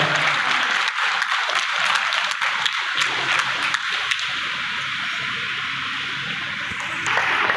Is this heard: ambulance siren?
no